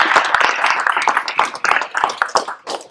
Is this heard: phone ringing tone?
no